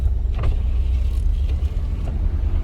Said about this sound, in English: There's no AC, so you want to bring your windows down.